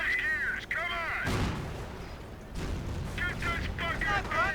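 A tank's main cannon fires in the World War II strategy game Company of Heroes, delivering a few heavy booms amid battle noise, with voices shouting over the din.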